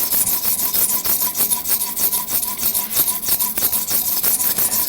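A knife being sharpened with quick, rhythmic rasping strokes against an abrasive surface, a close, continuous scraping that repeats steadily with no talk.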